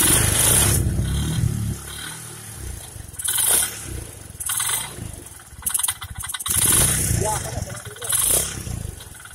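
A neglected, never-serviced Suzuki Sky Wave scooter engine is revved hard with the throttle. It gives loud, rough surges that rise and fall several times up close, with people talking over the noise.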